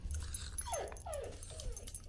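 Pet dogs whine in a few short, faint rising-falling whimpers, with slight movement noise behind them.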